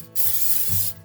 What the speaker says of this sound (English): we always want to give our crock pot a good spray so that nothing